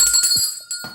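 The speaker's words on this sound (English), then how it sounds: "I'll ring the bell when I think you're there" A handheld bell is struck in a team counting game, two sharp bright rings that leave a sustained metallic tone trailing underneath.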